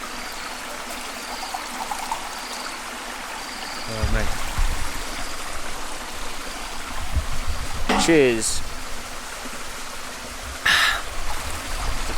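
A jungle stream in Malaysia runs heavily after overnight rain, a steady loud rush of water throughout, with men chatting briefly over it and a couple of clinks and knocks nearby.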